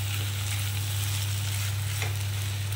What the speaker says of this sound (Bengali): যে ডিমগুলো সেদ্ধ করে গোল গোল করে কেটে রেখেছি এইগুলো আমি এর মধ্যে দিয়ে দেবো। দিয়ে এটাকে হালকা হাতে এমনি করে মিশিয়ে দেবেন।